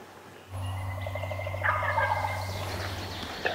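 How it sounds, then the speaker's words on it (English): Wild turkey gobbling in the distance in the woods, a single rolling gobble that rises after a moment of quiet and carries over a low steady background hum. "Turkey just gobbled right down there."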